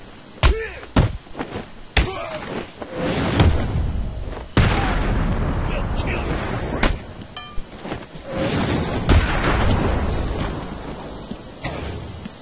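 Gunfire and explosions ring out in Batman Arkham City, loud close blasts, sharp thuds and booms in an irregular barrage, with dense rumbling stretches between the impacts.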